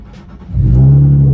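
A Nissan 370Z engine revs up as the car drives off, a deep rumble that swells quickly after a quiet start and holds a strong, steady drone.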